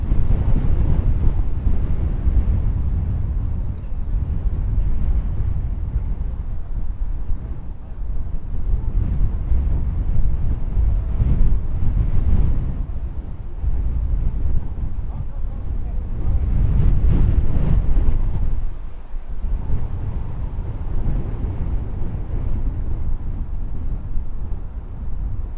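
Strong gusty wind at Dublin Airport buffets the microphone in a loud, continuous roar that swells and eases in waves throughout, with no clear voices over it.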